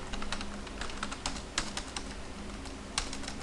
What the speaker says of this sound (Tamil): நான் அட்ரஸ்லாம் ப்ராப்பராக நான் டைப் பண்ண போகிறேன்.